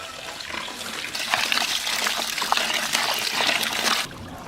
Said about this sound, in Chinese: 把青菜羹上的泥往进洗一下